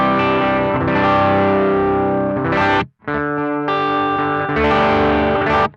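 An electric guitar played through a BOSS FBM-1 59 Bassman pedal with the presence turned up rings out in loud, distorted sustained chords, cut by one brief silence midway before strumming resumes.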